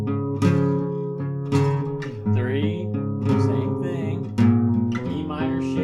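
Slow, gently strummed guitar chords with sustained ringing notes, played alone at a relaxed pace, close and clear.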